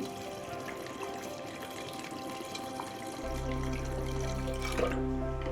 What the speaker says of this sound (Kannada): ಕಡಲೆಬೇಳೆಗೆ ಎಷ್ಟು ಬೇಕೋ ಅಷ್ಟು ನೀರು ಹಾಕ್ತಾ ಇದ್ದೀನಿ